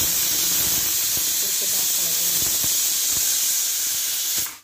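Steam hisses from a pressure cooker on a home stove, a steady bright broadband hiss that stays even throughout with faint clicks underneath, then fades out at the end.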